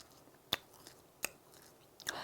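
Someone bites and chews crispy Korean hangwa, a handmade traditional confection, producing three sharp, isolated crunches spaced about a second apart over quiet background, close to the microphone.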